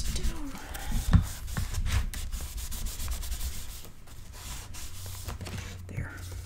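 Paper being burnished down by hand onto a Stamperia Christmas mini album, a close, steady dry rubbing that runs throughout with a few brief louder scrapes.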